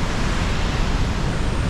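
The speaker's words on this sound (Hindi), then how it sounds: "नदी की आवाज़ सुनो कैसी आ रही है" Steady broadband rush of a fast-flowing mountain river in the Valley of Flowers, loud and continuous with no pauses, heard alone without talk.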